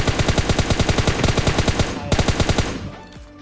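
Rapid AK rifle gunfire from the PUBG Mobile video game rattles off in fast, loud bursts of evenly spaced shots, breaking off briefly and then fading out at the end.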